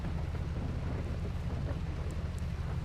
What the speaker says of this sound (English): Oh, I heard thunder, dude, or lightning.